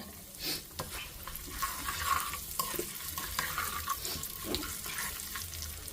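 Steady sizzling of tempering spices and crushed garlic frying in hot oil for a mango pickle, with occasional stirring clinks and scrapes throughout.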